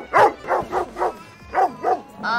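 A movie character in Scooby-Doo (2002) imitates a dog with a human voice, giving about six rhythmic barks and yelps in quick succession, loud and close, followed by a short whine.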